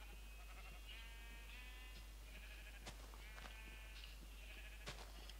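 Sheep in the video game Minecraft bleat repeatedly, several short wavering calls overlapping across a faint steady background, fairly quiet.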